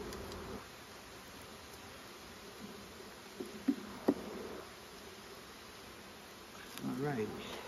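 Honey bees buzzing around an opened brood box in a backyard hive, a faint steady hum with a few louder close passes and brief clicks, and a voice briefly heard near the end.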